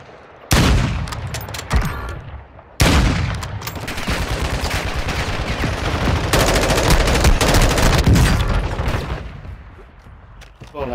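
Rapid gunfire bursts in a shooter video game, loud and dense, with sharp onsets near 0.5 and 2.8 seconds followed by sustained firing through most of the clip, while a player's voice is faintly present.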